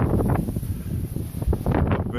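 Wind gusting across an exposed 1130-metre lookout on Mount Cordeaux, a steady rushing roar with low buffeting against the microphone, rising and falling in waves and staying loud throughout.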